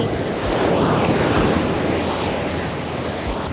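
Ocean waves roll steadily onto a beach in Sri Lanka, a continuous loud wash of surf with gusty wind buffeting the microphone and no voices.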